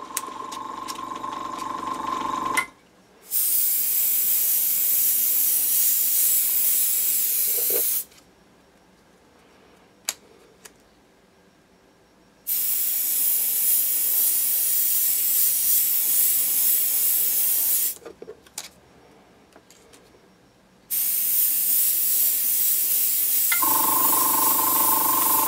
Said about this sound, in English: Or you could just spray the whole thing brown.